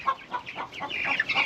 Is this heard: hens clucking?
yes